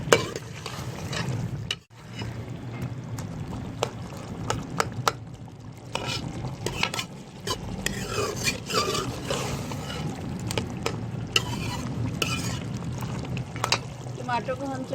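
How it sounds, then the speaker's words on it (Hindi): Mutton and tomatoes fry in a karahi, a steady sizzle broken by repeated scraping and stirring of the spoon against the pan, heard up close. "अच्छी तरीके से हम टमाटर डाल के गोश्त को भून रहे हैं।"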